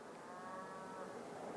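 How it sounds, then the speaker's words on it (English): Cattle moo on a farm in remote Weber County, a long, steady low call that stays faint and sits under a dense wash of outdoor background noise. "Such is life raising cattle on a farm."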